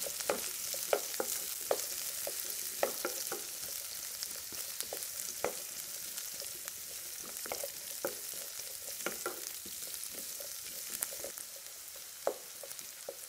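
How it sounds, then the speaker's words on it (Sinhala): Onion chunks sautéing in oil, a constant soft sizzle with frequent light spatula taps and scrapes against the pan. "ලොකුලුණු ටික ටිකක් වෙලා කෙලෙන් තෙම්පරාදු කරගන්න ඕන"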